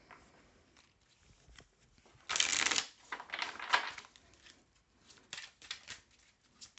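Feeling cards being shuffled and handled close by, with one loud riffling burst followed by softer flicks and taps in a quiet room.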